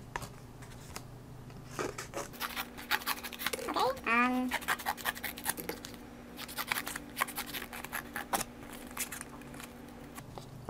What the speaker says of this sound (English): So let me just cut a random shape